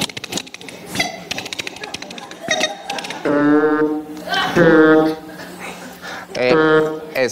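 A voice imitates an old computer sound with buzzing, warbling tones and choppy vocal bursts, mixed with other people talking.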